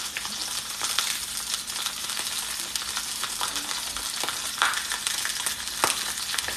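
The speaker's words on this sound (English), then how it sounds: "So I'm just frying the sausages right now" Sausages frying in a pan, a loud steady sizzle with scattered crackles and pops throughout, no voices.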